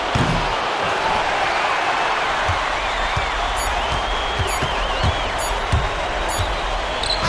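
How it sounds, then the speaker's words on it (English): Virtual arena crowd in NBA 2K26 applauding at the close of a basketball game, a steady wash of clapping and crowd noise with occasional ball bounces beneath it. "Crowd is very appreciative of the effort they put forth tonight"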